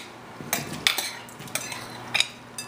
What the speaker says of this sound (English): So here in a bowl, we're gonna throw in our tomatoes.